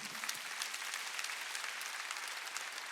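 A church congregation applauding during a Wednesday worship service, steady and sustained clapping from many hands filling the room for a few seconds.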